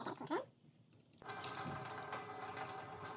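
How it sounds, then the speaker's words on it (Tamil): Water poured into a pot of crab rasam made with tamarind, tomato and spices, a steady close splashing and trickling stream that starts abruptly after a brief quieter moment and continues evenly to the end. "இதுக்கு தேவையான தண்ணி விடுறேன்"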